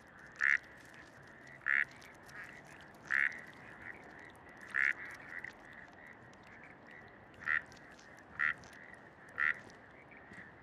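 Breeding-season frogs in Bogotá calling to attract mates: seven short, sharp croaks spaced about a second apart over a faint ambient hiss, with no voices.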